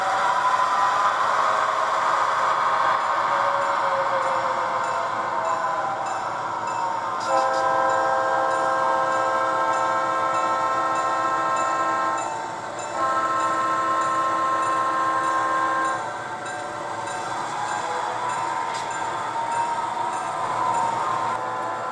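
A freight train rolls steadily through local switching work with its caboose, engine rumble and a sustained horn sounding in long blasts that start and stop across the stretch, with no talking.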